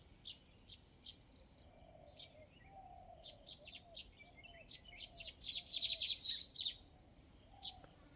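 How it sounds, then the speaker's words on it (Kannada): Baya weaver birds call in short, high, sparrow-like chirps that come in scattered bursts and turn into a denser chattering flurry near the end. Faint insect buzzing runs steadily in the background, and no one speaks. "ಅದರಿಂದ ಗುಬ್ಬಚ್ಚಿ ಥರನೇ ಶಬ್ದ ಇರ್ತಿರೋದು"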